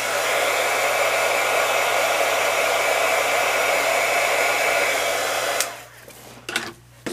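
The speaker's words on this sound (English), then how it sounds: "I'm going to do a quick hit with the heat tool just to get any extra glue that might have seeped." A heat tool blasts hot air over glued sequins with a steady loud rushing hiss and hum for several seconds, then cuts off, leaving faint clicks and handling noise.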